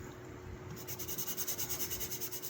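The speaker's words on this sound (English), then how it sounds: "Just want to get rid of most of the obvious rust." Steady rubbing of rust off the blade of a scout knife, a gentle rhythmic abrasive scrubbing at a regular stroke rate, close by with no talking.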